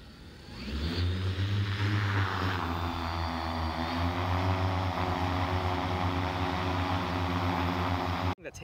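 Large agricultural spray drone flying, a loud, steady propeller drone that rises in pitch as it powers up, then holds a sustained hum before cutting off abruptly at the end.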